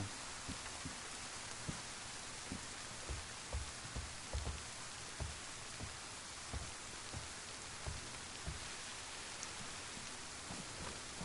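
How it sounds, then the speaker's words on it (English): Rain falls steadily in the video game DayZ as an even, faint hiss, broken by soft irregular low thuds. No one speaks. "I'd be more worried about running around in the rain like this"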